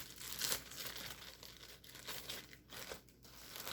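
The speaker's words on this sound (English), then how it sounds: "I take and unroll the Ziploc bag" A Ziploc plastic bag is unrolled up close, its crinkling and rustling plastic rising and falling in irregular bursts over a few seconds.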